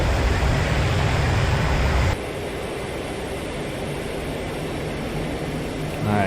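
AJ 37 Viggen jet in the DCS flight simulator, a loud steady engine roar that drops abruptly to a quieter, even rushing hum partway through, with no talking.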